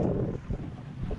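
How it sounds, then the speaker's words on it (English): A boat heads out toward a scuba dive spot in open water, with a loud rumble of engine and wind buffeting the microphone and no talking. "We're gonna take a boat ride out."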